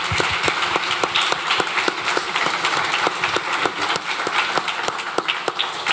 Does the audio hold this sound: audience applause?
yes